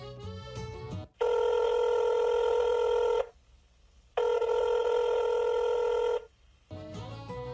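Two long, loud telephone rings, each about two seconds, separated by a short pause, with other sound before and after them.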